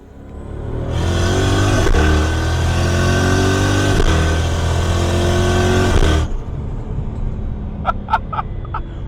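Onboard a turbocharged Lexus GS with a 3UZ V8, the engine roars loud and close under hard acceleration with a rising pitch through a shift, then cuts off sharply and leaves a few faint clicks and ticks.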